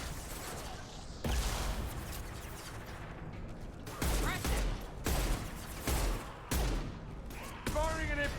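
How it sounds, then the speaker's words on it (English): Heavy impact-shot gunfire in Mass Effect 2, several loud booming blasts spaced a second or so apart over a rumbling combat backdrop, with voices speaking in between. "Firing an impact shot."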